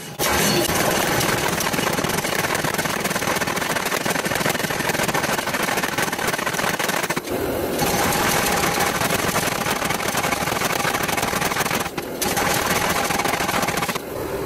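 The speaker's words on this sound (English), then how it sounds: "I then took it over to the power hammer, and that's when the real work began" Power hammer flattening a steel knife blank at the forge, a loud continuous mechanical pounding that runs nearly the whole time, briefly dropping off twice before resuming.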